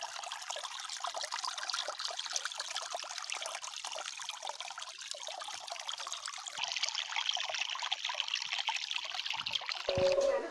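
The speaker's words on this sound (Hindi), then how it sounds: "तो ये हरे हमन के खेत के एक बहुत बड़े झरना।" A large waterfall on a village farm field pours with a steady, hissing rush of falling water. The flow is continuous and moderately distant and rises slightly partway through, with no speech over it.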